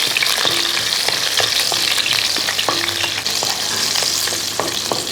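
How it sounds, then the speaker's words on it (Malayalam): Two green chillies and ten to fifteen garlic cloves fry in hot oil for an eggplant sambar curry, giving a loud, continuous sizzle with regular scraping strokes of a stirring spoon close by. "രണ്ട് പച്ചമുളക് ഒരു പത്ത് പതിനഞ്ച് വെളുത്തുള്ളി ഇതെല്ലാം കൂടെ അങ്ങോട്ട് ഇട്ട് കൊടുക്കുക ഇളക്കി"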